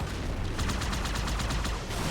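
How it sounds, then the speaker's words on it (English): Rapid gunfire from a Ghost vehicle's guns in Halo 2, a steady stream of quick shots about ten per second over a dense, loud game background, with no talk. "Look at that shooting!"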